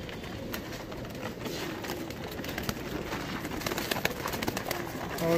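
Madrasi pigeons kept for sale coo softly and continuously amid scuffling and fluttering at close range, with no talk.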